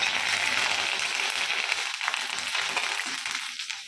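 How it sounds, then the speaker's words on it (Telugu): Tempering spices fry in hot oil for tomato pachadi, a close, even sizzle and crackle that carries on for a few seconds and softens a little toward the end, heard alone. "ఇప్పుడు తిరగమాత వేగుతుంది చూడండి"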